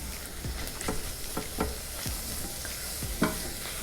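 Mushrooms for Hungarian mushroom soup sizzle in a pan on high flame, with a gentle steady fry beneath intermittent scraping stir strokes, close and fairly quiet, no voices.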